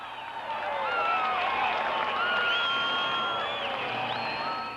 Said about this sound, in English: The crowd cheering the king of the monster truck